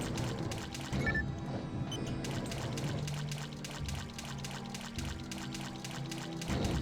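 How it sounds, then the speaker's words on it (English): Water splashing and pouring in Phantasy Star Online Blue Burst cave areas, a continuous liquid trickle and slosh layered over game ambience and music, moderately quiet and steady. "Splooshy water noise."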